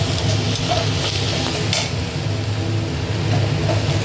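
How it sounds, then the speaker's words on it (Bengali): Onion and mushroom fry in a pan with a loud, constant sizzle, close up, while stirring scrapes and rustles through the hot oil without pause. "পেঁয়াজটা ভাজা হওয়ার পর আমি এটাতে মাশরুমটা দিল"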